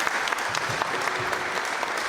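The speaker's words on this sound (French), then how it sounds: "Applaudissez-le, s'il vous plaît." An audience at a public debate on secularism claps for the next speaker, a continuous, even wash of applause from many hands throughout.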